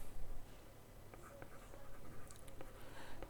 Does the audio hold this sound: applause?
no